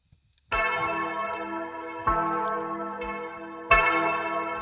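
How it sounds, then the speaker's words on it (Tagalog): A church bell sound in a band's cover rings out loudly, struck three times with long resonant tones that ring on and overlap between strikes. "Tunog kampana, no? Kampana ng simbahan."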